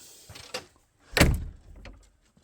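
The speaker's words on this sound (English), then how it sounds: "I'm just going to shut the door." A farm door is shut, with a few light rattles followed by a solid close thud that fades into quiet.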